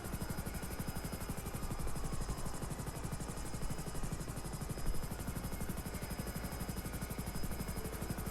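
An FH1 Hunter attack helicopter flies in GTA Online, its rotor beating in a fast, even, continuous chop with a loud engine whine, steady throughout with no voices.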